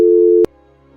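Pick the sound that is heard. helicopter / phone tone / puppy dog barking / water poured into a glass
phone tone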